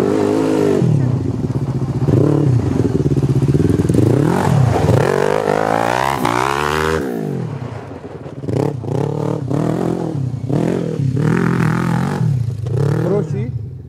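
A Honda CB 500 motorcycle engine revs up several times, pitch climbing and falling, loud and close, with voices talking over the engine noise.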